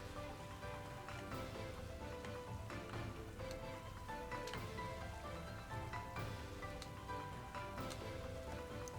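Rain weather effect from the video game Pokemon Sword and Shield, a steady patter of falling rain running continuously over game music.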